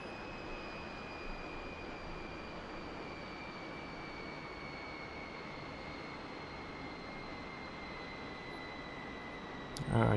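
The Klimov jet engine of a MiG-15bis idles down toward about 5,000 RPM in the DCS flight simulator, producing a steady, even whine and drone that holds constant for the whole stretch.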